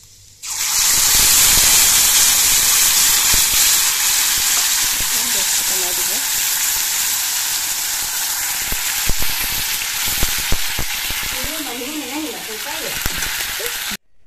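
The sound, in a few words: panch phoron spices frying in hot oil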